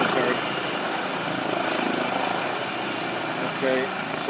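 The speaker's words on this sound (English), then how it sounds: "And the helicopter's just above." Medical helicopter landing in a cemetery, its rotor and engine a steady broad roar heard from nearby with people talking over it.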